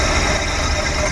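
Idling engine of a Suzuki Every Wagon with a misfire and heavy vibration, running near and steady as a low, rough rumble without a break, no talk over it.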